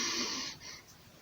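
During a breathing exercise, a single audible breath hisses strongly through the airway, then fades into quieter, softer airflow, close and fairly faint.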